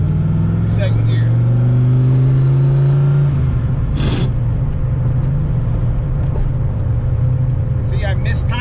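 A manual-transmission car on a street revs loudly in first gear, then the engine note drops sharply as it is shifted into second without the clutch, settling into a steady lower drone with brief clunks; speech 0.87 suggests talk over it.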